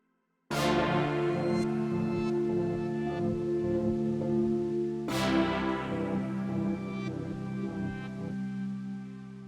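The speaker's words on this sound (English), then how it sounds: "I have those layered with the Jupiter 8V." Layered synth pads, with an Arturia Jupiter 8V emulation among them, in a retro 80s soundtrack style. Two sustained chords strike about four seconds apart, each with a bright attack and a long rich tail, alone with no voices.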